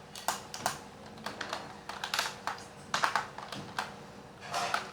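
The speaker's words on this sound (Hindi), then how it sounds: "F11 दबाएंगे एक्सटर्नल कीबोर्ड के साथ" Fingers tap on an external computer keyboard in a close, uneven run of quick clicks with short gaps, clustered bursts and softer single presses.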